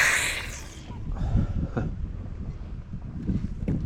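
Summer wind buffets the microphone beside a lake boat harbour with rippling water, a steady close rush and rumble with no talk.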